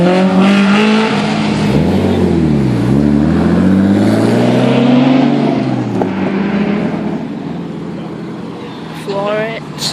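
A supercar at a car meet revs and accelerates hard, its loud engine note sweeping down and back up in pitch as it passes close by, with people talking over the roar.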